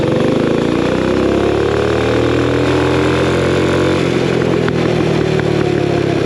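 A mini bike's Predator 212 Hemi engine with a custom exhaust and heavy valve springs revs loudly and steadily up close from a dead stop, its harmonic drone rising and falling without pause.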